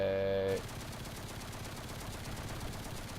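Gunfire from an M4A1 tank in War Thunder: a brief tonal mechanical whine gives way to a steady, dense rattle of rapid fire that continues without a break.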